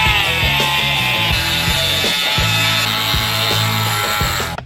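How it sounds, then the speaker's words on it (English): A drill bores into the groove of a Norton Commando camshaft nut, metal on metal, with a loud continuous whine broken by repeated stuttering bites as the bit catches, then cuts off abruptly at the end. "I'm busting out the drill bit and I'm kind of working my way in on this"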